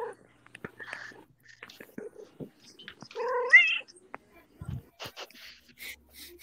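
A cat meows and caterwauls in a quiet room, a few short rising cries clustered midway, with soft scattered voices and small noises around it.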